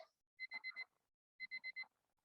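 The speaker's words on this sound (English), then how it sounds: "My timer's going off now." A timer alarm goes off during an exercise routine, two quick bursts of four sharp, even electronic beeps each, separated by a short pause, fairly quiet with no talking over them.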